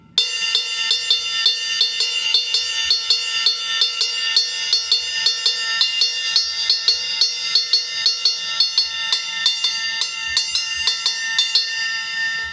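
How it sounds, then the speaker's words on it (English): A steady, repeating syncopated Mozambique ostinato of bright metallic strikes on a drum kit, like a cowbell or cymbal bell, played alone at a brisk even tempo. "I will now show you what a Mozambique ostinato sounds like"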